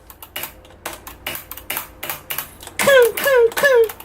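Keys are struck firmly on a Corsair STRAFE mechanical keyboard with Cherry MX Red switches, giving sharp, close clacks. In the final second a few harder strokes add a ringing, springy rebound ping.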